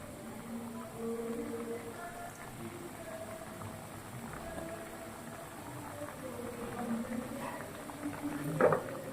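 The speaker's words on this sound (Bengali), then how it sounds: "তরকারিটা ফুটে আসছে" A pot of vegetable curry simmering toward a boil, giving a steady low bubbling and soft hiss throughout with faint kitchen clatter near the end.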